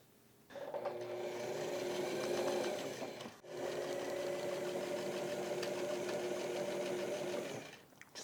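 A sewing machine stitches reinforcement seams at the top of a handmade backpack, running in two steady, close bursts with a brief pause between them and no talk.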